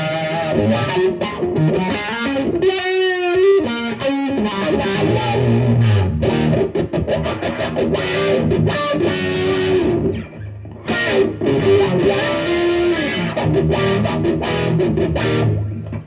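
An electric guitar played through a Morley Bad Horsie wah pedal with distortion, its tone sweeping in loud, gritty, heavily effected riffs with sustained notes, steady and close throughout.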